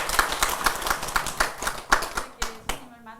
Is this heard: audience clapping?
yes